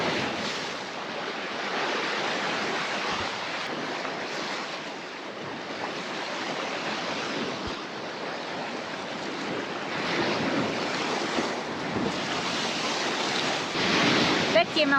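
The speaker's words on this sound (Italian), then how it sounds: "con il rumore del mare" Sea waves wash continuously against the wild coast of Murcia, Spain, a steady broadband surf roar with gentle swells and some wind, heard alone at moderate distance.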